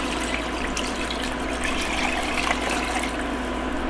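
Five cups of water pour into a soup pot for creamy mushroom soup, a continuous close splashing rush lasting the whole moment, with no talk.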